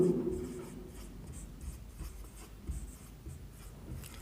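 Chalk or marker strokes on a classroom board during a trigonometry lecture, a steady run of scratchy scraping with soft taps, close and fairly quiet, with no talk over it.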